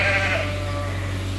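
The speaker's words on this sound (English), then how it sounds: "all those sheep at the feeder there are lambs" Sheep and lambs at a feeder bleat loudly and close, a strong wavering call rising over a steady low hum of the farm setting.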